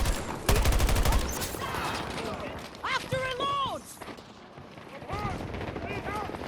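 Gunfire in the video game Battlefield 2042: rapid bursts of automatic fire and scattered shots, sharp and fairly close, mixed with other in-game effects.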